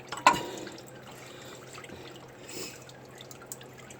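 Coolant drips from a 2006 Dodge Ram 5.7L Hemi engine during water pump removal, a few faint irregular drips and splashes with one sharper drop near the start, quiet and close over low background hum.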